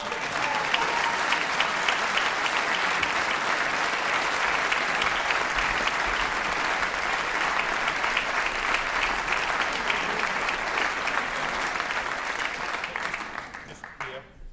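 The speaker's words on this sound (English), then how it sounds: "Just give her a big round of applause." Sustained audience applause in a Steinway piano showroom concert, thick and even clapping from a sizeable crowd lasting about fourteen seconds before fading out.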